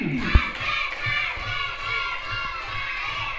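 A school class in an Indonesian religious-education lesson performs a rhythmic concentration-clap chant. Children's shouted chanting runs over a regular pulse of claps, with one sharp clap near the start.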